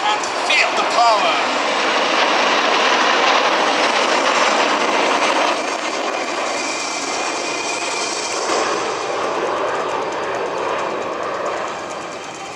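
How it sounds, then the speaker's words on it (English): Turkish Stars aerobatic jets performing at an air show in Poznań give off a steady, loud broadband roar that fills the whole stretch, easing slightly toward the end, with crowd murmur and possible voices mixed in. "listen to the roars of the jet engines and feel the power."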